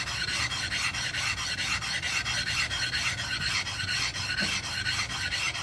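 A whetstone is flattened by rubbing it back and forth against a longer abrasive surface, producing a continuous, close, gritty rasping that pulses with each stroke.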